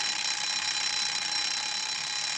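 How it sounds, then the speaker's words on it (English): An alarm clock rings in a loud, steady, continuous shrill buzz with no pauses, close and alone. "when the alarm went off and tripped the camera"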